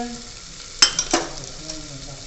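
Onions frying in a pan as turmeric and chili powder go in for aloo pakode masala, a steady soft sizzle with two sharp clinks of a spoon against the pan near the start, no talk.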